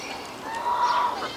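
A goose on a farm pond honks at sheep in one loud, close, drawn-out nasal call that rises and then tapers off.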